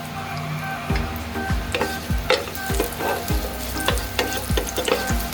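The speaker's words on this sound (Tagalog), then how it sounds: "So magigisa tayo ng bawang at sibuyas at luya." Ginger sautés in a hot pan, a steady close sizzle broken by regular scraping strokes of a spatula against the metal, with no talking.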